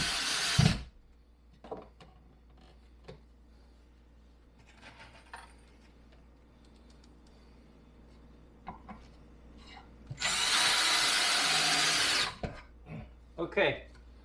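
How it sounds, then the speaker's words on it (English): Screws driven into a fixture with a screwdriver during a home plumbing job for a fridge water line, with short bursts of tool noise and clinks, including a loud sustained stretch near the end, while someone talks. "using real screws with a real screwdriver, I'll make sure I got this in"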